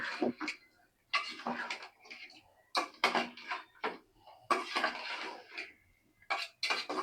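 Potato pieces tipped into a pan of sautéed pangas fish curry base land in clattering bursts, with scraping and clinking against the metal pan in several separate handfuls, close and fairly loud.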